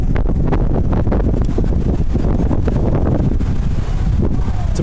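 Strong wind roars steadily across the microphone during a bicycle ride along Venice Beach in Los Angeles, a loud continuous buffeting with gusty surges and no clear talk.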